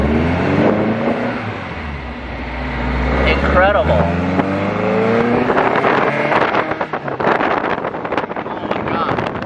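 A restored 21-window Volkswagen bus drives along with a window open, its engine a steady low drone under rushing wind noise while people talk and exclaim inside.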